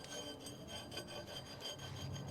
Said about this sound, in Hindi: जब आपका ये ब्रेक पैड घिस जाएगा तो ये क्या करेगा, ये स्ट्रिप यहाँ टकराने लगेगी।